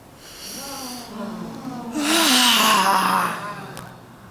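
An audience at a literary event of Black women writers draws a collective deep breath and lets it out in a loud, voiced group sigh that swells, peaks in the middle and fades.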